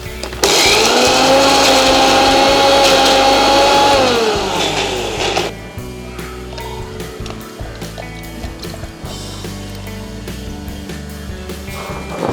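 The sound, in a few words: blender grinding chili peppers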